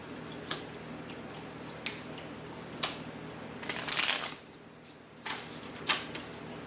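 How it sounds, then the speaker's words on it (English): Tarot cards being shuffled by hand: soft riffles and taps at irregular intervals, with one longer crisp burst, close but quiet and without speech. "let's give it a shuffle."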